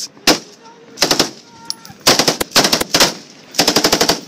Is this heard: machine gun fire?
yes